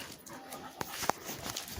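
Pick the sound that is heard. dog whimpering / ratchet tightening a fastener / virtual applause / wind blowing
dog whimpering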